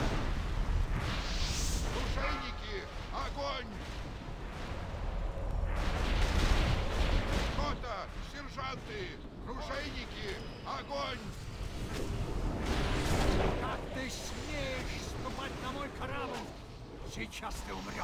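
Repeated booming cannon blasts from a video game, loud and layered with chaotic battle noise while voices talk over the action.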